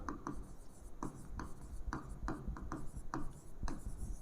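A teacher writes on a board during a physics lesson, a series of short, sharp scratching strokes at a steady rhythm, close and clear, with no talk over them.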